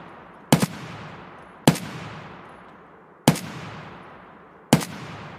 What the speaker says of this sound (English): I'm shooting a tree, dude.